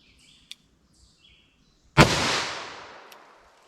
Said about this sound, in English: I'm going to start with our 357 Magnum over the chronograph